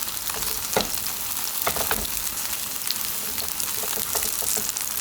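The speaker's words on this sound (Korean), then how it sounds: "처음에 기름이 닿아야 돼요. 기름이 닿게끔 쭉 움직여주세요." Potatoes frying in hot oil in a pan, a continuous dense sizzle with occasional louder crackles and pops as they are moved around, close and steady throughout.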